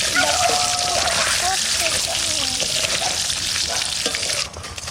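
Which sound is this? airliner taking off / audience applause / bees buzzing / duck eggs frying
duck eggs frying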